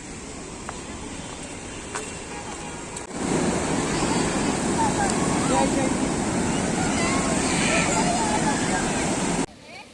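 Broad, continuous roar of surf rolling in at a busy Kozhikode beach, growing louder partway through, with faint background voices mixed into the steady wash.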